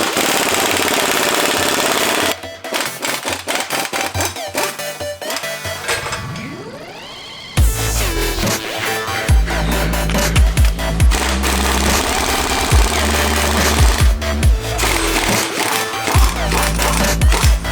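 Factory ball joint being pressed or hammered into a Jeep JL Dynatrac ProRock 44 front axle, loud continuous mechanical pounding and rattling with a brief slowing whine midway, close and harsh.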